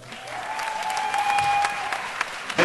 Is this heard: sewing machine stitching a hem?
no